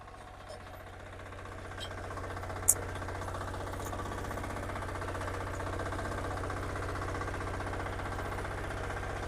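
A power weeder's small farm engine runs steadily, a close, even low drone with a fine rapid pulse that holds at a constant level throughout, apart from one brief sharp click.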